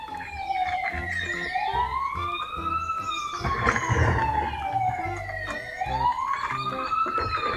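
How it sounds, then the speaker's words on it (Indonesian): A toy truck's electronic siren wails up and down in slow repeating sweeps, steady and fairly loud, with light mechanical rattling underneath. "Dan ini suara sirene yang kedua."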